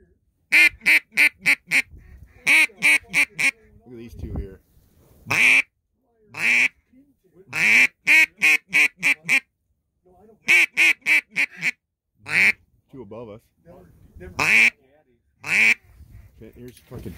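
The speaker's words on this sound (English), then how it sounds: "These are ducks." Ducks quack in rapid, loud bursts of repeated honking calls during a duck hunt in Coralville, Iowa, close to the listener, with people talking between the calls.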